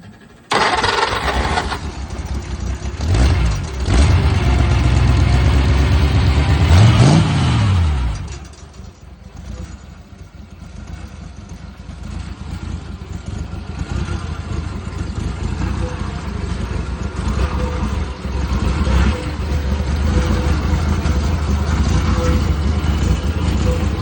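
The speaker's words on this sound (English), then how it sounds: "but this thing runs really good." A Chevy V8 fitted to a 1950 Farmall A tractor cranks, fires and revs loudly up close, then settles to a steady, lower idle rumble that runs to the end.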